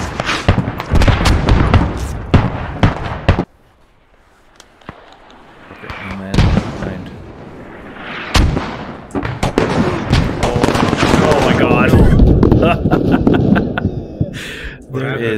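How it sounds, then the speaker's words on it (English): Armored vehicles shooting in Squad, loud gunfire and booming cannon blasts in irregular bursts, with a quieter lull in the middle before heavy firing resumes. "Armor shooting."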